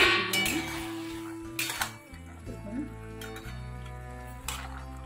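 A metal lid lifted from a pot of boiling broccoli, a few light metallic clinks and taps over a steady tonal background.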